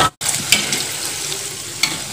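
Sweet batter frying in a shallow amount of oil in a small wok over moderate heat, a steady close crackling sizzle with occasional sharper pops and a brief stir clatter near the start.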